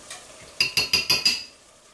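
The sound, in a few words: whisking sour cream into a sauce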